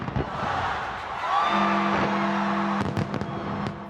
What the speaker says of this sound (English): The fireworks display lighting up the Thames at the stroke of midnight